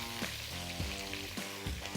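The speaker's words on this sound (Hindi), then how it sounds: "थोड़ा सा इसको करेंगे फ्राई" Kebabs sizzle steadily as they fry in a pan, a continuous close crackle running under tonal background music.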